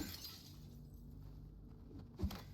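A single glass pane smashes in Silent Hill 2 Remake, a short crunching break near the end after quiet low game ambience.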